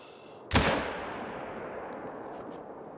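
A single loud Malmer 7mm Magnum rifle shot in theHunter: Call of the Wild, with a sharp crack and a long rolling echo trailing off over a faint ambient bed.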